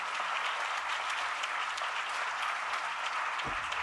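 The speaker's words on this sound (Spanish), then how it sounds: "Les voy a pedir a los que estén presentes que le den un aplauso a nuestros conferencistas" An audience at a conference on cultural project financing claps for the speakers in steady, dense applause. The clapping is moderately quiet, sounds slightly distant and has no voices over it.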